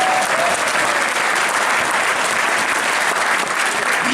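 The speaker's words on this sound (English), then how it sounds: "give the Girl Scouts another round of applause" A crowd applauds Girl Scouts at a state senator's oath-of-office ceremony in a high school, dense and loud clapping that holds steady throughout.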